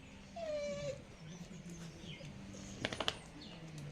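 Faint dog whimpers and a short high whine close by in a quiet village setting, with brief soft yips and light bird chirps in the background.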